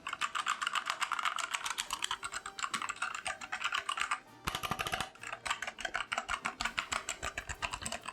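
Steady typing on a mechanical keyboard with red switches, fairly soft, muted key clicks in quick bursts with a brief pause midway, close up.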